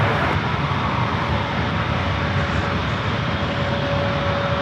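Airliners arrive on the 28 runways at San Francisco airport, heard as a loud, steady jet engine roar that holds for several seconds with a faint tonal whine running through it and no talk.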